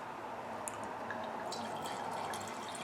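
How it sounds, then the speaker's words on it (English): Red wine pours from a bottle into a glass at a casual pizza and football party, a steady soft liquid trickle with faint drips running for a few seconds under a constant background hum. "as I can tell right away, pouring it out of the bottle"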